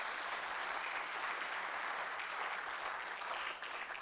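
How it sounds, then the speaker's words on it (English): A church congregation claps in praise during a Sunday morning service, a dense, even wash of many hands sustained throughout at a moderate distance, easing slightly at the end. "Give the Lord a hand clap of praise this morning"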